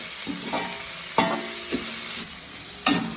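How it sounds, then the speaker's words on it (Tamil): Green chillies, leeks and onions sauté in a pan for Jaffna-style bread kottu, giving a soft sizzle with several sharp stirring scrapes at uneven intervals, close and fairly quiet. "பச்சை மிளகாய் அவ்வளோ இதையும் போட்டு வதக்குவோம்"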